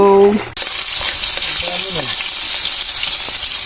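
Ugaong sizzles loudly in a pan over an open fire, a constant bright frying hiss that erupts as the food hits the hot oil, with brief tonal squeaks early on.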